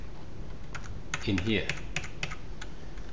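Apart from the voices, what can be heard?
typing on a computer keyboard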